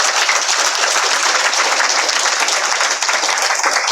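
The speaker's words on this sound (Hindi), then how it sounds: "अच्छी वाली ताली बजा।" Steady, dense applause from a crowd, continuous hand clapping that fills the whole stretch at an even level.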